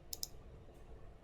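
Two sharp computer mouse clicks close together near the start, made while selecting the Documents menu, then quiet room tone.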